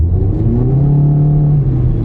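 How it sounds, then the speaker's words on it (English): A Honda car engine revs hard when floored, its note climbing loud and steady for a couple of seconds with a rough, rumbling tone and no talking. "that time it revved up better."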